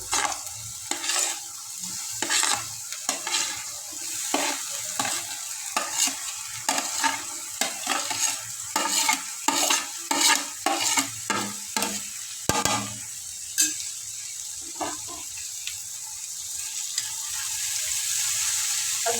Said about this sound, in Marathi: अगदी हलक्या हाताने आपल्याला हे हलवायचं. सगळं मिक्स होईल छान असं.